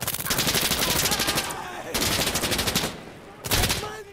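Gunfire in the tactical shooter Insurgency Sandstorm, with loud, close bursts of rapid automatic fire in three runs separated by brief gaps.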